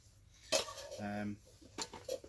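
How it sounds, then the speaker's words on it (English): Titanium cooking pot in a homemade foil bubble-wrap cosy being handled, giving a couple of light metallic clinks and a short ringing tone, quiet and close. "Here's my cooking pot in a little self-made cosy."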